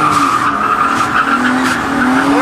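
A drift car accelerates through a figure-eight drill, tires squealing and skidding loudly in a sustained, wavering screech close by.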